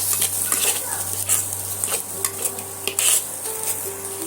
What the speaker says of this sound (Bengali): দিয়ে আমি সমস্ত মশলা এইভাবে কষিয়ে নেব একবার